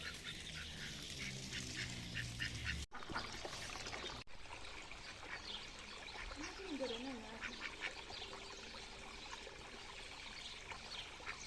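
Ducks quacking at a ranch duck pond in Mexico, with repeated squawks over running water and steady outdoor noise, a brief cut partway through and a few short calls further off.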